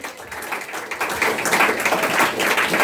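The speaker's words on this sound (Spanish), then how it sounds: "Denle un aplauso lindo al Señor" A church congregation breaking into applause during a service, a broad wash of many hands clapping that swells louder and fuller over a few seconds, with no clear speech.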